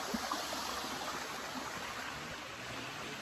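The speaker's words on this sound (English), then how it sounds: "Look at this waterfall." Waterfall at a wine farm near Paarl, South Africa: a steady, soft broadband rush of falling water, fairly faint and continuous, with no voices over it.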